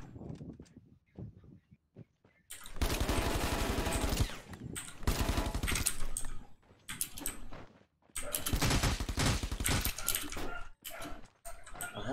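Bursts of automatic gunfire in the Rules Of Survival battle-royale game, shots aimed at a car on a new map, with loud dense rattling volleys in several long strings separated by quieter gaps and scattered single shots.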